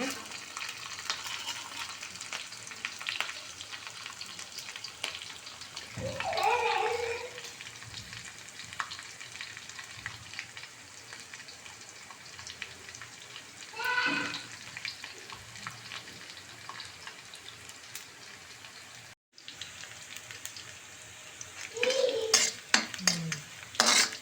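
Coarsely pounded black pepper fries in a pan under a soft, steady sizzle while a spoon stirs it. Scrapes and clinks against the metal come in a few short bursts.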